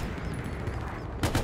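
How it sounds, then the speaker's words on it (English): Bren light machine gun fire in a World War II desert battle game set at El Alamein, a short burst of loud shots near the end after a stretch of low battlefield rumble. "Have they adjusted the recoil of the Bren gun?"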